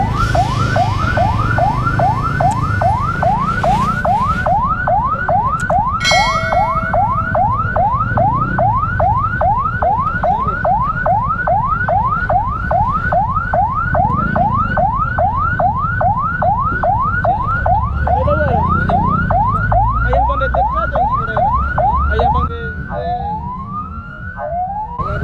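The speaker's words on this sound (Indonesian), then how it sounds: "Ambulannya baru datang gitu ya" A wailing siren sweeps up and down in a steady, rapid cycle, loud and close, over rumbling traffic at a road accident scene near Simpang Parit; the siren keeps going for most of the time, then a few short whoops and a drop in level come right at the end.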